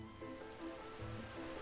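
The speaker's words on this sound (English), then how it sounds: "It went on raining," Steady rain from a storybook audiobook sound effect, a soft continuous hiss of falling drops with faint patter, heard alone without narration.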